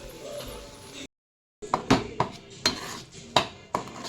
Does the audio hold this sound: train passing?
no